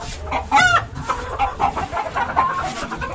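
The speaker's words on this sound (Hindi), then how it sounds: "चलो भाई रियाज ने भाई कमाल कर दिया भाई चारों मुर्गे पकड़ लिए" Caught roosters clucking up close on a farm, with a loud squawk early on followed by a run of short irregular clucks, no talking.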